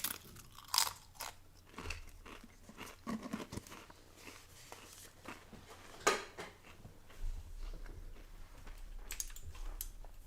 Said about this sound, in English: I hope my chewing sounds weren't as loud